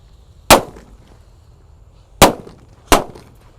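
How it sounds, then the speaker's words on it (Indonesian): Three sunflower firecrackers go off outdoors as sharp, loud bangs: one alone, then a pause of nearly two seconds, then two more in quick succession, each followed by a short crackling tail. "Selanjutnya kita nyalakan mercon sunflower. Kita nyalakan 3 sekaligus bosku."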